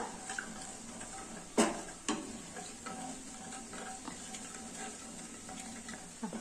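Oil hisses and crackles steadily as mustard and cumin seeds go into a hot pan for tempering, with a couple of sharp pops and a metal clink early on.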